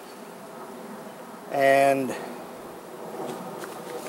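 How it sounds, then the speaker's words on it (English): Honey bees from a swarmed hive, split into a new hive box, give a loud close buzzing burst midway through, fading into a low hum with a brief spoken word. "there's a decent amount of bees in this box"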